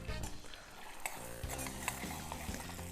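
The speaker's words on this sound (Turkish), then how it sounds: "Yağım eridi, cevizler içeri gidebilir artık." Walnuts cooking in melted butter in a pan, with a soft, steady sizzle and occasional stirring clinks of utensil against the pan, close and moderately quiet.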